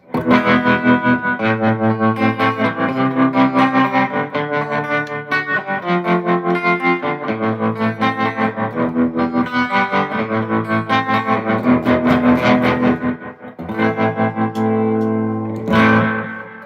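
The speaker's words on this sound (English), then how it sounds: "Yeah, the reverb's cool. The amp also has tremolo, which is nice." An electric guitar, a Gibson, plays chords through an amp, with a shimmering pulsing tremolo and reverb wash, loud and steady with no voices.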